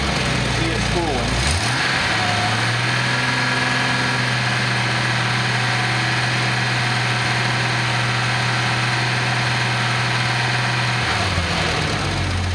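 A Datsun 280ZX turbo engine starts and runs at a steady, loud idle, with a low droning hum and a faint whine above it, then the revs dip near the end.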